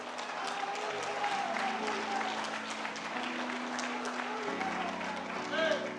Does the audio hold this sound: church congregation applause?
yes